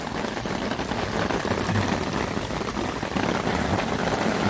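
Steady rain falls at an autumn campsite in October, an even, continuous hiss of drops pattering on surfaces that holds at the same loudness throughout, with no voices.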